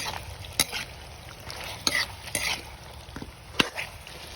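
Chicken adobo is stirred in a sizzling pan, a low simmering hiss punctuated by several sharp spoon-on-pan clinks spaced irregularly, close and moderately quiet.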